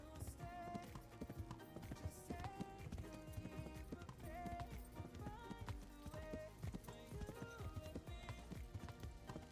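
Rhythmic horse hooves clip-clop steadily at a walking pace, with music playing and occasional game effects mixed in.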